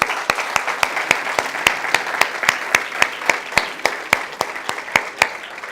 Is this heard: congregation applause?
yes